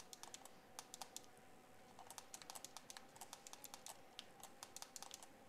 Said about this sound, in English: sorry if this keypad's quite harsh